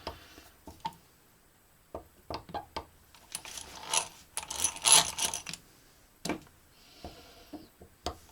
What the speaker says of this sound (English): Also known as the egg beater drill.